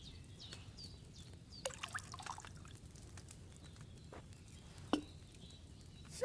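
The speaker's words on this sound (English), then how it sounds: "First, you have to pour the right base into the cauldron." Wine poured from a pitcher into a cauldron in Kingdom Come: Deliverance, a faint liquid trickle and patter with a few small drips and clinks, heard close over quiet room ambience.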